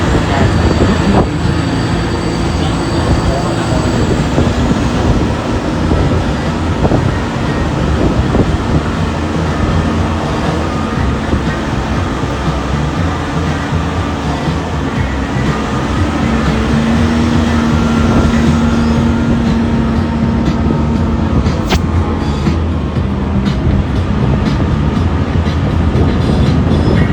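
A Universal Studios tour tram rolls along with a loud, continuous rumble and rattle of wheels and cars, steady throughout the ride.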